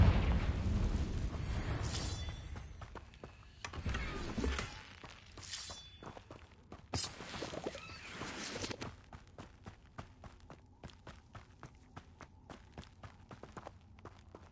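Confringo blasting-spell explosions in the game Hogwarts Legacy: a few sharp bursts early on, mixed with footsteps and scattered impacts, then quieter clicking movement.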